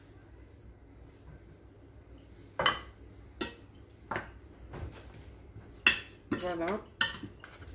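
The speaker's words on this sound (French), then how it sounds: "je vais mélanger la viande, les épices que j'ai mis dedans avec les épices" A utensil stirs meat and spices in a cooking pot for a cardoon tagine, producing a series of sharp metallic clanks and scrapes against the pot, irregular and close, while a voice speaks briefly.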